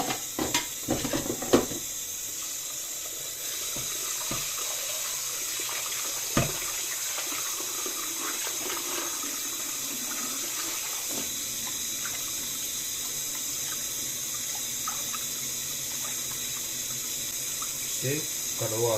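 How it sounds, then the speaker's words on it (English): Tap water runs steadily into a kitchen sink while rice is washed, a continuous hissing flow with a few clinks at the start and brief speech over it. "I'm gonna wash the rice."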